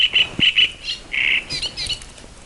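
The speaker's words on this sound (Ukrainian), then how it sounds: "Бачите, як стараються пташечки, співають мені." Birds sing outdoors in short, bright chirps and trills, several calls in quick succession, clear and fairly close with no voices.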